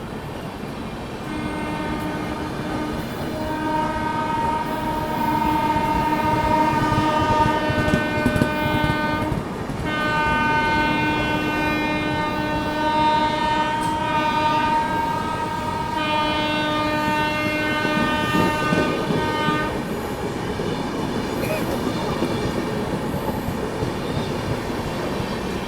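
Mahakoshal Express rolls steadily while a freight train passes on the adjacent line, a long horn blaring in sustained blasts over the continuous rumble and rattle of wheels, loud and close throughout.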